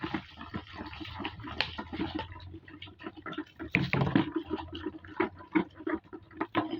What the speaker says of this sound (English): the next thing I am going to pour is my ethanol. So you pour it and you stir.